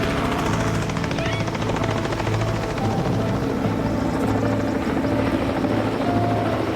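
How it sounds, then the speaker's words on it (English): A helicopter hovering low over an African wildlife rescue scene, a loud continuous rotor thrum and whine that fills the whole stretch without pause. "The helicopter's hovering over him here"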